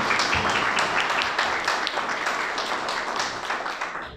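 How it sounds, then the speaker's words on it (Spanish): An audience at a book presentation gives a strong round of applause, dense, steady clapping filling the room and fading slightly toward the end. "Un fuerte aplauso, Fabián."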